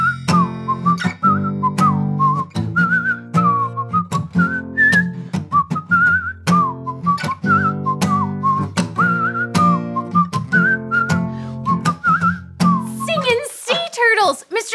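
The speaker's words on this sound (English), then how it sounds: "Mr. Music, your whistling sounds great." A person whistles a cheerful melodic tune over a steady musical backing, continuous phrases with short breaks, loud and close; a brief burst of other sound closes it.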